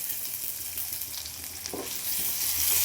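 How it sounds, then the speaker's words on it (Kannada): Onion, tomato, green chilli, curry leaves and mustard seeds fry in a pan for a sprouted moong palya. The sizzle is loud and steady, briefly interrupted by a stir, and swells slightly toward the end. "ಚೆನ್ನಾಗಿ ಫ್ರೈ ಮಾಡ್ಕೊಳ್ಳೋಣ."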